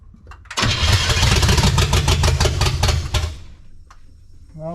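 A 1972 Chevrolet C10 truck's small-block 350 V8 cranks briefly, then roars to life with a loud, rough, rumbling idle for a few seconds before cutting off abruptly.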